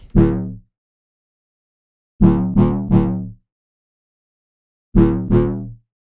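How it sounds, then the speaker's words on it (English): Short, punchy drum and bass synth bass notes from a Yamaha DX7 synthesizer sound in sparse groups, one, then three, then two, each decaying quickly with silence between them. "our DnB bass line sounds like this."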